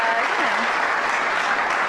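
Comedy club audience applauds at a live stand-up show, a dense burst of clapping filling the room, loud and continuous, with a voice faintly underneath.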